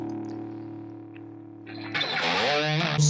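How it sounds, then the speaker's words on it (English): A sustained electric guitar chord with heavy distortion rings out, then a gritty riff kicks in, loud and close. "Kick on the distortion."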